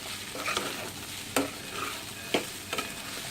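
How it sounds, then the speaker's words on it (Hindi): Poha with roasted peanuts tossed and roasted in a pan, a steady dry sizzle with a few distinct spatula scrapes and knocks, close by with no voices. "अब हम इसे अच्छे से भून लेते हैं।"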